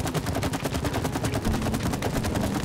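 Rapid gunfire from the video game It Takes Two rattles loud and continuous, a dense burst of shots in quick succession with no pauses, heard alone without voices.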